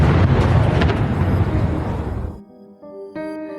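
A booming thud on a house roof: a heavy, rumbling roar fills the first two seconds, then it cuts off abruptly and a faint tonal ring remains.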